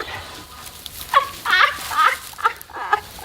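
Wild chickens caught in a chicken trap cluck nearby in a series of short, fairly loud calls and squawks, with no talking.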